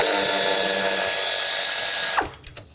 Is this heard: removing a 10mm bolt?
yes